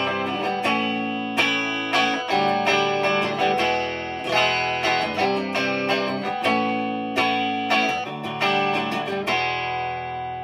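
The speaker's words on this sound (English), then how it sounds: "so if you want to do the same thing, but use the series humbucker with this, it sounds like this." Electric guitar through a series-wired humbucker paired with the neck pickup, a thicker, fuller chord progression with rhythmic strums and ringing sustain, a touch of effects coloring, played alone without talk.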